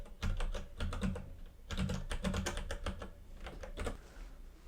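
Apple ID password being entered on a computer keyboard as bursts of quick, clicky keystrokes with brief pauses between runs, close and fairly quiet, with no speech.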